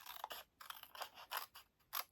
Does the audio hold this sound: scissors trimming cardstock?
yes